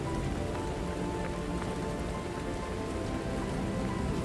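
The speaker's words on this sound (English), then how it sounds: "The rain looks good." Steady rain pattering on surfaces in the game Lies of P, a dense even hiss of drops that holds at one level throughout with no voices.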